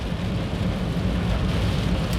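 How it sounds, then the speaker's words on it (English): Torrential rain pours down during a heavy storm in Nelson, heard from inside a moving car as a dense, loud, unbroken roar of rain drumming on the vehicle with a deep low rumble beneath, with no talking. "absolute rainstorm, a terrible rainstorm here in Nelson. Torrential conditions."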